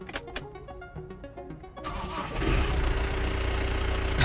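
A 2021 Mahindra Bolero Maxitruck diesel pickup is started: a few seconds of quick, rhythmic starter cranking, then the engine catches and settles into a loud, steady diesel idle with a rumbling low clatter.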